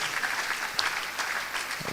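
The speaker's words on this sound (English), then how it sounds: "let's keep clapping until they leave here" An audience at a university alumni event claps continuously, a dense, loud, even wash of applause with no pauses.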